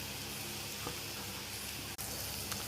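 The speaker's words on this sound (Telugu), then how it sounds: "దాంట్లో ఆవాలు జీలకర్ర కొద్దిగా ఎక్కువనే వేసుకోవాలి" A steady hiss of oil crackling as mustard seeds, cumin and dried and green chillies fry with ginger-garlic paste for a dhaba-style dal tadka tempering, even and fairly soft throughout, with no voices.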